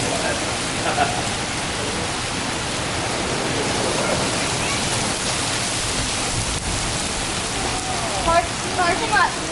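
Heavy rain pours steadily during an afternoon thunderstorm on the Trestle Trail, a dense, close hiss of drops striking surfaces, with a few louder splashes and patters near the end.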